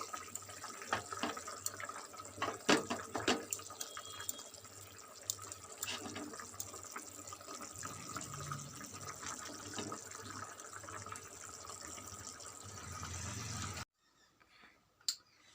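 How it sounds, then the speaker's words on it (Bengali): Rui fish curry broth boils in a pot, a continuous close bubbling and watery churn that runs steadily, then cuts off abruptly near the end into near quiet with a faint clink. "ঝোলটা ফুটে গেছে"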